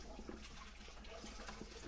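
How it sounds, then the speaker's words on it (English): Water from an aquaponics bell siphon pours steadily down a chute, a continuous gurgling rush with small splashy bursts, close and alone. "it caused water to start coming down the chute"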